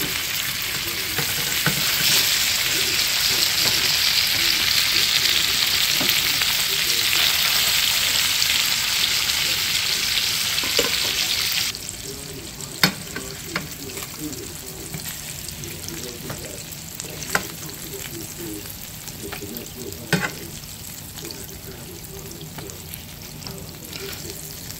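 Garlic sizzling in leftover fish-frying oil, a loud dense hiss that drops to a quieter steady crackle partway through, with occasional sharp pops and utensil taps.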